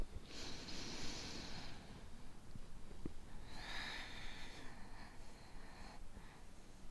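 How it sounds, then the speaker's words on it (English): Slow, deep breaths during a hatha yoga flow, two drawn-out airy inhale and exhale sounds, close and quiet, with a soft snort-like catch between them. "We're going to take a couple of deep breaths here."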